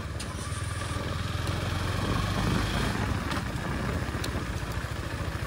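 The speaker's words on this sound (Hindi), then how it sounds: "ये जो बाइक है वो ऐसे थ्रॉटल देते ही ऐसे हाथ से निकलते ही जाती है" A KTM Duke special edition motorcycle on a ride: a steady, close engine drone with some clatter and a slight rise in revs midway, no talk over it.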